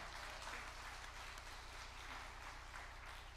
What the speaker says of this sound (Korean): 아버지 영광의 박수 올립니다